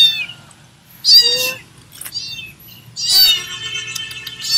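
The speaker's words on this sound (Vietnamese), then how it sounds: "Mèo này chứ mèo nhà." Meows from a stray cat found at night in Da Lat, two or three insistent calls, close and clear over a faint low hum, with no talking.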